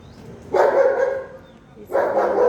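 A large dog at a village house barks in two drawn-out, bellowing bursts separated by a short pause, fairly close and loud.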